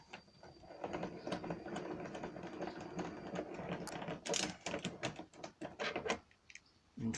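A 10 mm socket wrench turns out a screw on the front of a 2014 Yamaha X-Max scooter, giving close, rapid ratcheting clicks in uneven runs with short pauses.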